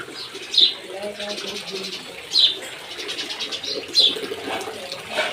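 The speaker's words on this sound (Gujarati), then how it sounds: "ચકલા બોલવા મળ્યા ઉડી ગયા." House sparrows chirp in short bright bursts, three distinct calls spaced a couple of seconds apart, over a quiet background with faint talk.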